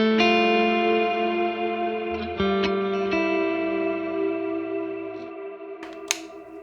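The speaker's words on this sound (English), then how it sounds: "So this uses the Plex Verb setting, and it's just really big reverb." A guitar runs through a Fractal Axe-FX III on the Plex Verb Huge reverb preset, playing sustained, shimmering chords that wash out into a long, loud, slowly fading tail. A few brief picked notes and a sharp click sound near the end.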